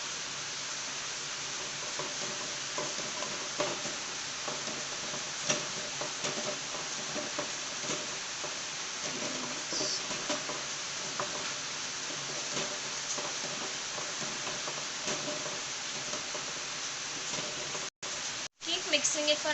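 Paneer butter masala gravy with garam masala is stirred steadily in a pan. The scraping and sizzling run as a continuous close texture for about 18 seconds, then break off briefly near the end. Quiet talk runs beneath.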